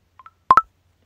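A Snapchat notification tone plays as a preview on a phone, two quick soft beeps followed by two louder clean electronic tones in rapid succession, then silence.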